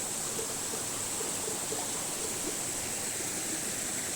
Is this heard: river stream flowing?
yes